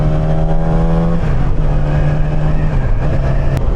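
A super sport car engine drones low in sixth gear at about 36 mph, a loud, steady hum close up that dips slightly in pitch as it lugs along, with no talk.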